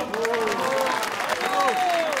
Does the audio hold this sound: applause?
yes